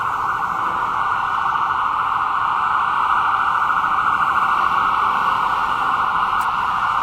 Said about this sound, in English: Loud ambulance going by.